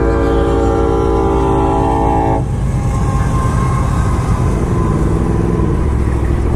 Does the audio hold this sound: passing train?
yes